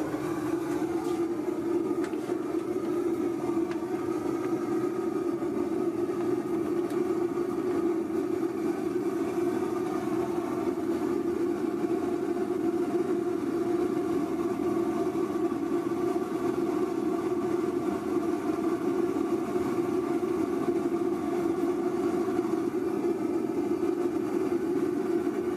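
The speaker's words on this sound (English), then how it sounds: "I use a gas heater." A gas heater runs steadily while warming the canvas of a stretch ceiling, giving a continuous low roaring hum at an even level throughout, with no talk.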